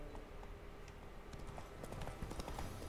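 Roach, a horse in The Witcher 3, runs with rapid clip-clopping hooves that grow denser and louder toward the end, over low ambient game background with no talk.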